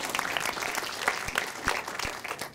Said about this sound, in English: Everybody give Julie a big round of applause as she joins me.